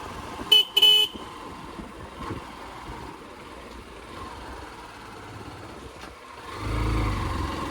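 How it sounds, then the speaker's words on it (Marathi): A vehicle horn gives two short toots at a turn on a mountain road. A faint, steady engine rumble follows and swells near the end. "असे हॉर्न बिन वाजवत जावे, कारण की पुढचा पण जरा सावधान होईल."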